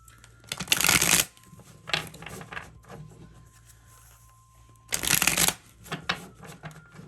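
Tarot cards are shuffled close by in two quick riffling bursts a few seconds apart, with softer card handling and faint shuffling between them.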